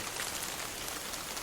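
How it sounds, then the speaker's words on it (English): Steady rain falls without a break, a soft, even hiss of drops spread across the whole clip with no voices over it. "The rain will continue."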